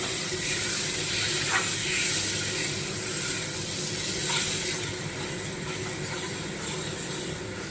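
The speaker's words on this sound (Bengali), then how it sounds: "এবারে আমি দিয়ে দেব গরম জল" Hot water goes into a cooking kaju posto katla fish curry, giving a soft, even hiss and sizzle with a couple of faint splashes.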